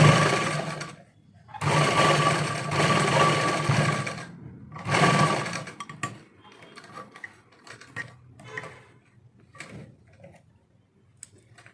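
Sewing machine stitching elastic into a trouser waistband in loud, fast bursts separated by short stops, followed by quieter clicks and handling noises.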